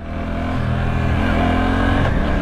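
A Suzuki GSX-8S motorcycle accelerates out of a roundabout, its engine droning loud and close with a rising harmonic whine and steady rumble through the whole stretch.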